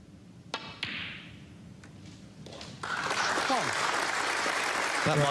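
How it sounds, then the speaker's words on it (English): A snooker crowd bursts into polite applause after a good red at the English Open. A few sharp ball clicks come first in near-silence, then the clapping swells and holds, with a commentator talking over it. "applause for a good red"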